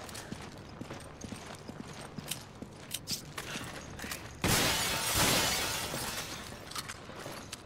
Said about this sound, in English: breaking that glass